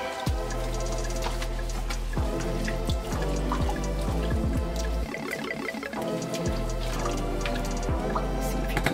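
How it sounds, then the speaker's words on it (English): Water runs and drips steadily into a tub while a dog is bathed and lathered, a continuous close trickle with scattered splashes and drips throughout. "I like to keep adding water"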